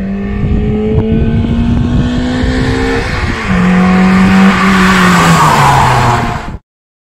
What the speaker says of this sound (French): ce moteur, il prend 8000 tours minute